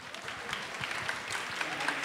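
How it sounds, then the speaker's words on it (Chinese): An audience at a youth talk event claps for a former basketball player taking the stage, a moderate, somewhat sparse patter of hands that continues evenly, with no clear talking over it. "拍手热烈"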